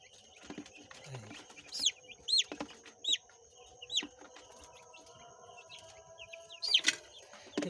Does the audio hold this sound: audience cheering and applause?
no